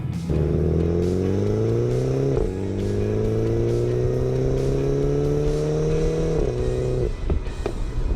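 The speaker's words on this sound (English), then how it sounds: "The exhaust note is very bassy, it gargles and pops, and the turbo spooling up is music to my ears." Turbocharged engine and exhaust of a 2017 MINI Clubman John Cooper Works All4, loud and close, revving up in long rising pulls with brief dips between gears and a deep, bassy exhaust note throughout.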